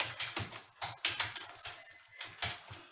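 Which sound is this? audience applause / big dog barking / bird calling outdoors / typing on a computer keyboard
typing on a computer keyboard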